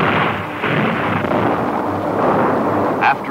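A dynamite blast against a rock canyon wall during Hoover Dam construction booms out as a loud, sustained rumble, rolling on for several seconds with no talk.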